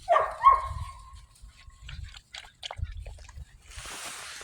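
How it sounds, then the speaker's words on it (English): Six-week-old puppies yelp and whimper in a short burst at the start, then scuffle and shuffle nearby with occasional soft squeaks, ending in a rush of hissing noise. "Hey, puppies."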